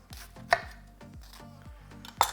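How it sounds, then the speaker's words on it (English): A knife chops onion on a board in quick, crisp strokes, about six evenly spaced thuds close up, with no voices. "A little chopped onion."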